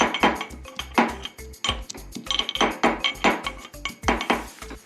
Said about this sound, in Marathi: 10-12 लसणाच्या पाकळ्या खलबत्त्यात चांगल्या बारीक ठेचून घ्यायच्या